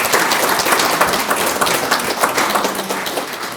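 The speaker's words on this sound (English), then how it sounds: "Applaud, please." A town hall meeting audience claps for students, giving dense, continuous applause from many hands that stays steady and fairly loud for several seconds.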